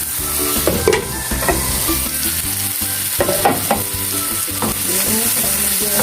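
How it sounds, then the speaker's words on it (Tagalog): Meat sautéing with garlic, onion and tomato for pinakbet, giving a steady close sizzle punctuated by rhythmic spatula stirs and scrapes against the pan, over faint background music. "Hintayin natin hanggang sa mag-brown-brown yung ating karne."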